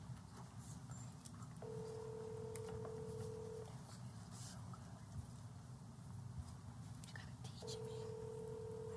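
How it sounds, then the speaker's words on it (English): A phone being dialed to reach a city council member during a special meeting, with two steady tone bursts of about two seconds each, separated by a pause, over a busy room hum and faint background murmur. "I'm gonna give him a call."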